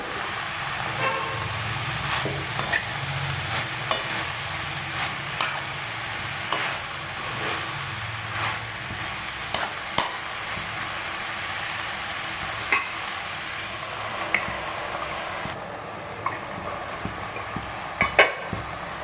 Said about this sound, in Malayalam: ഒരു മൂന്ന് മിനിറ്റ് സമയമായി നമുക്കൊന്ന് ഇളക്കി കൊടുക്കാം